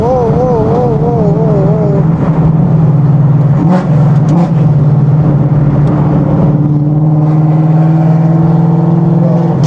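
A car being driven on a street, its engine humming steadily and rising as it accelerates, loud and close, with someone talking excitedly over it.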